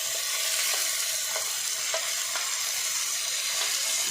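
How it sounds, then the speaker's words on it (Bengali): Ginger garlic paste sizzles and fries steadily in a hot pan, a dense continuous crackle with a few soft stirring scrapes, close and loud with no talking. "এরপরে দেবো আদা রসুনের পেস্ট"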